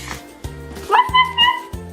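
A dog gives a quick run of short, yappy barks, close and loud, with a few higher whiny notes in between.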